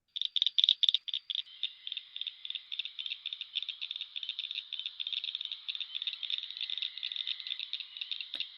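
Cricket frog chorus along the banks of the Eno River, a rapid series of dry, clicking calls like pebbles tapped together, starting in loud bursts and settling into a steady, fast clicking rhythm throughout.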